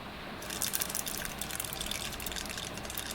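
Mustard seeds sputter in hot peanut oil, crackling and popping rapidly over a dense steady hiss, close and with no voices.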